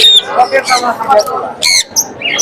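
A male ringneck parakeet squawks in short, sharp bursts at close range in a busy bird market in Mirpur, Dhaka, with other birds calling around it.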